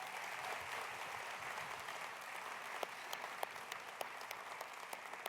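Applause for youth speakers at a breakfast event, a dense, even patter of many hands clapping, fairly faint, with a few sharper individual claps standing out toward the end.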